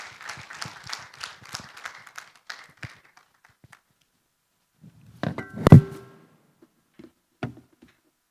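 Scattered applause from a small audience at a World Ozone Day celebration event, a few seconds of distinct hand claps fading out, followed by a sharp knock and a couple of faint thumps in near silence.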